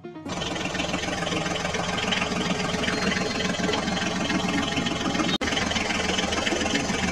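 Tractor engine running steadily up close, a loud continuous chugging rumble that holds for several seconds and drops out briefly near the end, with no talk.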